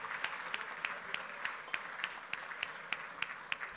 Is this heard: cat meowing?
no